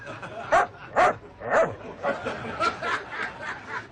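A dog barks several times in quick succession, short sharp yips close up, coming roughly every half second.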